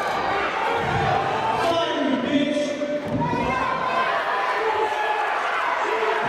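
An angry crowd at a wrestling show jeers and shouts at a wrestler, a loud continuous roar of voices with thumps and scattered yells, heard up close.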